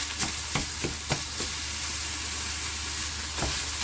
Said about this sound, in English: Alright, so we have our venison browning.